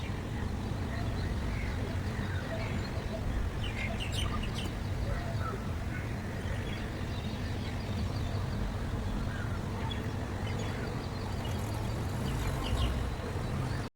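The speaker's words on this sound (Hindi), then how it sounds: "पंछी बहुत प्यारी आवाज़ आ रही है।" Birds chirp and call faintly across a farm in the early morning, with a distant rooster or fowl among them, all over a steady low rumble of background noise.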